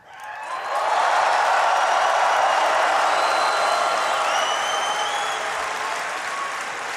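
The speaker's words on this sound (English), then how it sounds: "I want everyone here to give a big cheer to all of your friends watching at home." A crowd of about 20,000 at BlizzCon cheers and applauds in a loud, sustained roar of clapping and shouts that swells within the first second and holds steady throughout.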